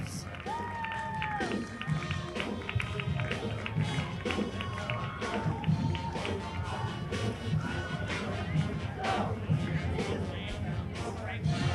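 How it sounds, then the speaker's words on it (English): A big capacity crowd packs the gym at a high school basketball game between South Kitsap and Bremerton, a loud continuous roar with scattered cheers and thumps, and a public-address voice intermittently cutting through. "A very big crowd. Looks like it's filled to capacity."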